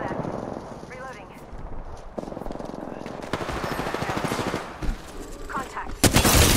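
Gunfire in the Apex Legends video game, rapid automatic bursts and single shots crackling over loud ongoing game noise, with players talking in between.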